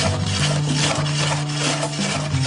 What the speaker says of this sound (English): We'll start with the Chinese cabbage, and that needs to be finely shredded.